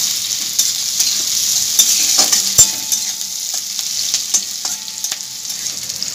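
Salted onions fry in a pan, giving a continuous close sizzle broken by the sharp scrapes and clinks of stirring, including one louder knock partway through.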